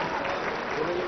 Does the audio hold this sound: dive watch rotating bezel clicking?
no